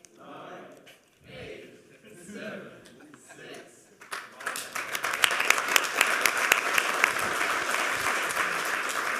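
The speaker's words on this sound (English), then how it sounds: "Give him another round of applause" Talk with some breathy sounds at the 27c3 conference lightning talks comes first, then applause breaks out about halfway and continues loud and dense to the end.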